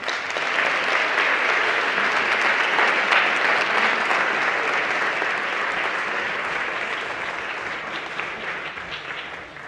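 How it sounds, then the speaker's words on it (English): An audience at a city leaders' health event applauds award winners, broad steady clapping that holds strong for several seconds, then gradually thins and fades toward the end. "one more big round of applause for all of them"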